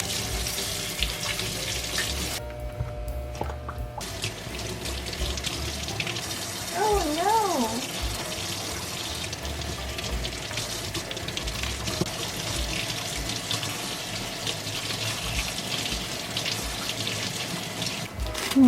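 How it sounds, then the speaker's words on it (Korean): Running tap water splashes steadily into a sink while cucumbers are rinsed, a continuous close rush with brief breaks and handling noises. "위에 고명으로 올릴 오이를 세척을 해놓겠습니다."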